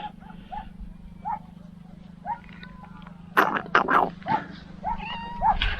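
A cat on the Greek island of Tinos meows repeatedly in short, fairly quiet calls over a low steady hum, with a few louder rustling bursts in between.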